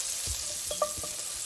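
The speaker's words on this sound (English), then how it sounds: "Fry a little bit so that the chili taste comes inside the oil" Chili frying in hot oil for an egg curry, a steady close sizzle with a few faint pops and stirring sounds, no voices.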